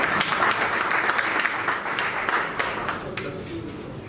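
Hall audience applauding ministers at a communications ministry speech, a loud, dense burst of many hands clapping that tapers slightly toward the end, with a faint voice or tone emerging underneath late on.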